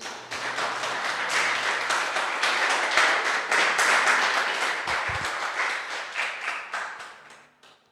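A church congregation claps and applauds for the Lord during a worship service, a steady, loud wash of many hands that lasts several seconds before tapering off at the end.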